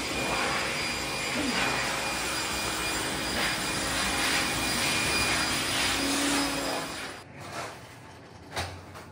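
Steady loud whooshing roar of a powerful car wash vacuum running continuously, cutting off near the end to quieter clunks and handling noises.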